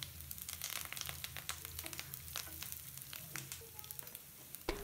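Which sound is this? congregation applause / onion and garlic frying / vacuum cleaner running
onion and garlic frying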